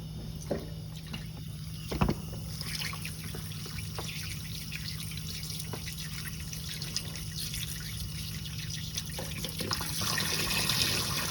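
Water from a tap runs steadily with soft splashing and occasional drips and clunks, growing a little louder toward the end.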